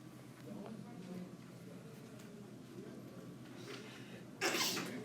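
A single sharp sneeze bursts out near the end amid a quiet classroom murmur, loud and close against the low background chatter.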